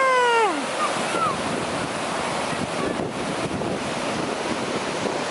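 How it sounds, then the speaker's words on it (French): Steady rushing water of the Rivière du Nord in Quebec fills the scene with continuous broadband roar and some wind buffeting, opening with a brief descending whistling tone. "C'est relaxant le bruit de l'eau, hein?"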